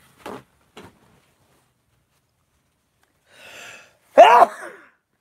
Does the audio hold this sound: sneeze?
yes